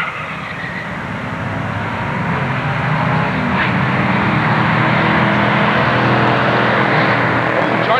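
A Mustang drag racing car engine roars as it accelerates hard, loud and sustained, with a rising rumble and a brief pitch change from a gear shift.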